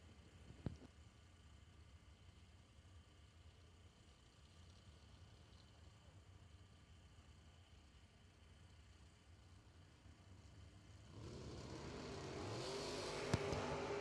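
A red S10 pickup and a fast Camaro face off at a bracket drag race, with a faint steady background rumble for most of the time before the engines roar louder and closer in the final few seconds.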